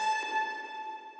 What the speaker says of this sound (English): So I snagged a vocal sample, and then I just took a little snippet, which sounds like this.